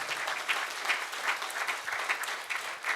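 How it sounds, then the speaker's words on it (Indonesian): Audience at an Indonesian motivational seminar gives Ustadz Busro a round of applause, moderately loud dense clapping with slight surges, steady from start to finish. "Beri tepuk tangan buat Ustadz Busro."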